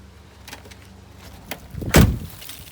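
A few light clicks followed by a solid mechanical clunk of a 1958 Mercury's door lock, close and alone.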